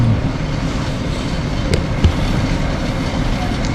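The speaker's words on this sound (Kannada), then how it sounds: "ಟ್ರೈನ್ ಕ್ಲೋಸ್ ಆಯ್ತು ನೋಡಿ ಹೋಗುತ್ತೆ ನೀವು." A high-speed electric train on a Russian railway pulling out with a steady low rumble and hum, a couple of sharp clanks cutting through, no voices.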